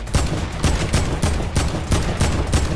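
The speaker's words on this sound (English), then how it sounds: "Oh, it's an AK." An AK rifle fires in Fortnite, with sharp bursts of automatic gunfire repeating in a rapid rhythm. The shots are loud and close, and no talk is heard over them.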